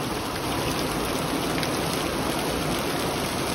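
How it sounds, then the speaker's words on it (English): Steady, dense rain pours down continuously, a loud even hiss of drops hitting surfaces with no voices. "still raining."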